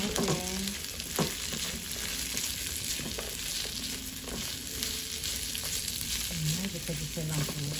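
Fried tofu is sautéed in a pan for tofu sisig, with steady close frying crackle and repeated spatula scrapes and stirs, and faint bits of voice in the background.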